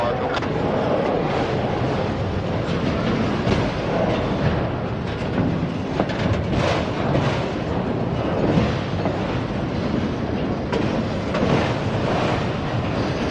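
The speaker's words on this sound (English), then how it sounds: "Coming around that bend. This is long train." A long freight train led by a K83 locomotive rounding a bend near a rail yard, a continuous broad rumbling roar with wind buffeting the microphone, steady and fairly loud throughout.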